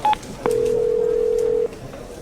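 A cell phone in a radio drama gives a short high dialing beep, then one long steady tone lasting over a second, clear and close, alone in a quiet room.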